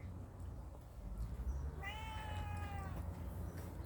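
A cat meows once, a clear drawn-out mew rising over a low background rumble and faint room noise, heard near and alone without talk.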